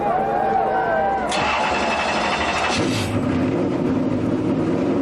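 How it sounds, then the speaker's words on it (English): A Penske Ford Taurus race car fires up at Kansas Speedway: a rising whine gives way to a sudden engine catch and a rough rumbling idle, loud and close amid an announcer's commentary. "Ryan Newman hits the switch in his Penske Ford Taurus"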